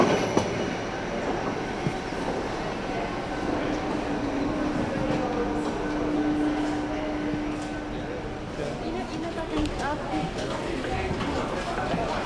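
The Gornergrat cog railway near Zermatt, Switzerland, runs with a continuous rumble, a rising whine and squealing wheels, while a narrator speaks over it.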